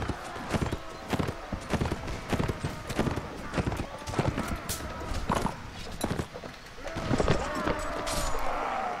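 Horses gallop in Mount & Blade Warband, rapid clattering hoofbeats arriving in bursts amid battle noise, with a voice talking over parts of it.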